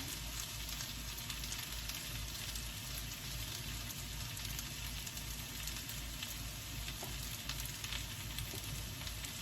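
Butter sizzles steadily in a frying pan, a soft continuous crackle and hiss at low level, with no talking, before mushrooms go in for a frittata.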